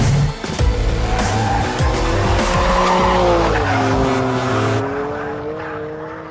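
Tires squeal loudly as a BMW M4 GTS corners hard, the high-pitched skid sliding in pitch over a roaring engine, close and continuous before easing off.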